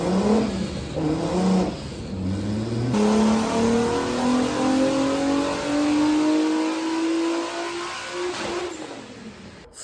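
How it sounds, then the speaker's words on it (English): A VW Caddy sleeper's engine revs on a dyno, rising in long steady pulls with a brief drop between runs, loud and close, then easing off at the end. "See if we can rev it a bit cleaner."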